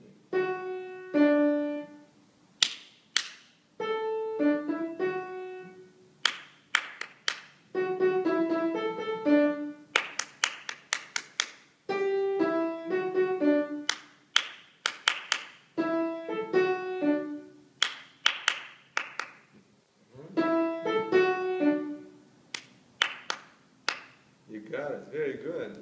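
A child at a choir audition clapping back rhythms, with short bursts of sharp hand claps alternating with brief piano phrases over roughly half a minute, clear and close in a quiet room.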